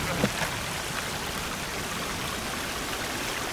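A waterfall in the survival video game Sons of the Forest pours in a steady, moderately quiet hiss of falling water that stays constant, with a brief soft knock near the start.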